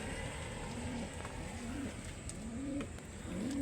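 Pigeons or doves coo softly in a repeated low rhythm, about four phrases, over a steady outdoor background hiss, with no talking.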